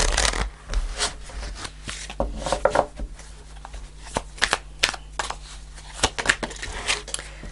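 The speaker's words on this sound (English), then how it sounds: "as I cut the deck" A tarot deck being cut and shuffled by hand, crisp riffling and slapping card sounds in quick irregular bursts, close and fairly quiet.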